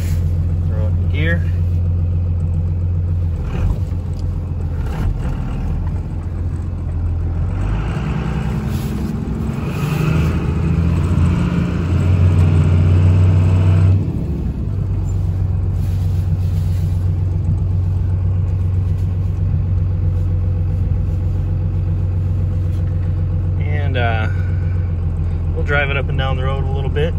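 A 2001 Dodge Ram 2500 pickup idles and runs in gear with a steady, deep engine rumble throughout, swelling somewhat toward the middle, while a person talks nearby.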